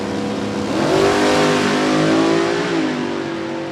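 A supercharged drag racing car with a crank-driven blower revs hard and loud at an NHRA strip, its engine note climbing and holding for a couple of seconds before easing back.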